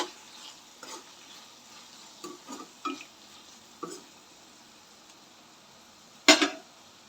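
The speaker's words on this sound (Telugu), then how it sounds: "టేస్ట్కి సరిపడా సాల్ట్, ఒకసారి నెమ్మదిగా మిక్స్ చేసుకోవాలి." Tomato rice being stirred in a pan: soft, scattered scraping strokes of a spoon at an unhurried pace under a faint background, closing with one louder clink of the utensil against the pan.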